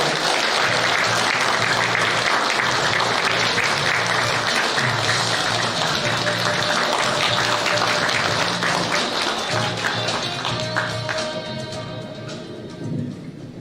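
Party members at a founding convention give loud, sustained applause as the preparatory committee chairman enters, a dense roar of clapping that gradually fades toward the end.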